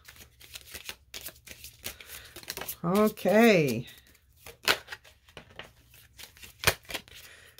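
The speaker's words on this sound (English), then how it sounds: "I just wanted one more shuffle so that we could get a couple" Tarot cards being shuffled by hand, a run of quick papery riffles and soft slaps scattered through the clip, close and fairly quiet, with a voice speaking briefly.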